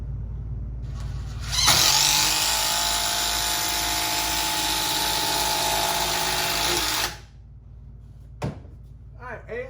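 A cordless impact driver sinks a 6.5 inch timber screw into timber, a loud sustained buzzing hammer rattle lasting about five seconds, then a short clack after it stops.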